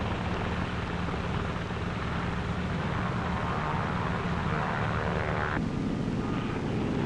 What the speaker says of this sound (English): Navy F-6F mother control planes are catapulted from the carrier's flight deck.